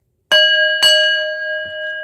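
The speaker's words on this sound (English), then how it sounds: "Let's ring the bell." A bell is struck twice in quick succession, each clear ringing strike sustaining a long bright tone, followed by a faint low knock; loud and close, with no voices.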